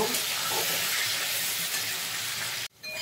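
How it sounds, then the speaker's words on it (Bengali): Steady, close sizzling of pointed gourd frying in hot oil, a continuous bright hiss that cuts off abruptly near the end. "এবার একটু ভেজে নেব।"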